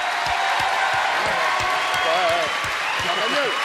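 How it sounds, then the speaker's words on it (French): A television studio audience applauds a young band from Réunion Island with sustained, full crowd clapping throughout. Someone talks over the applause, close and clear, while the clapping stays steady behind him. "applaudissements pour ces jeunes gens qui sont là."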